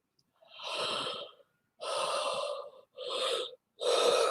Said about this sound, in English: So I yawn a lot when energy's moving.